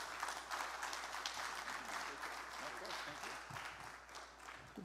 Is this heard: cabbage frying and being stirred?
no